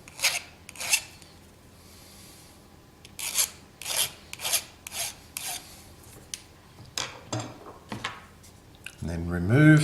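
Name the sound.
cleaning up a Diablo model kit part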